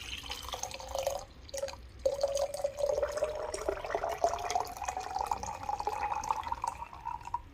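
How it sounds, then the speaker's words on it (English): Hot water poured from a vacuum flask into a syphon coffee brewer, a steady close trickling stream with a rising tone as the glass chamber fills, after a brief start and pause. "we have to pour hot water first and let the water start to boil"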